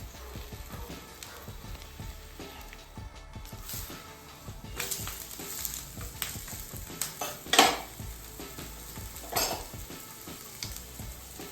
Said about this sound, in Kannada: ಮೇಲೆ ಒಂದು ಸ್ವಲ್ಪ ಎಣ್ಣೆ ಹಾಕ್ತಾಯಿದ್ದೀನಿ